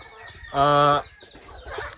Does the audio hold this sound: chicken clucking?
yes